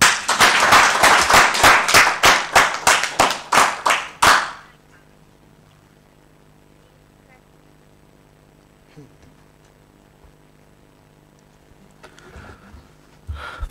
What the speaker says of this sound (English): You can get a better clap than that.